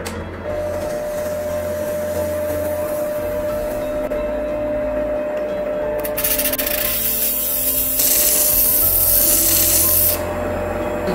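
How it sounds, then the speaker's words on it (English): A 320-grit diamond faceting lap grinds the girdle of a Madeira citrine, giving a continuous close scraping rasp over a motor hum that grows harsher and brighter partway through. "now we're going to work on the girdle with a 320 grit"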